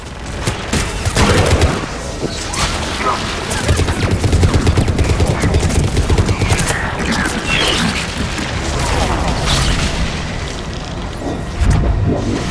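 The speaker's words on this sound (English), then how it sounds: "Firing another salvo." Missile salvos fire in the video game Mass Effect, a dense, loud barrage of booms and blasts rolling continuously with heavier bursts near the start and end.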